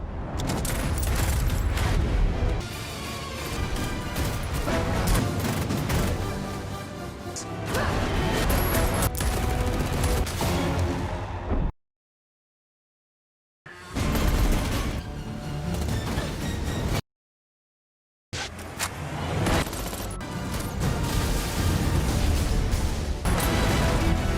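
Explosions, crashes and bursts of gunfire sound from a No Time to Die movie trailer. The loud, dense action mix runs continuously and breaks off abruptly twice in near silence.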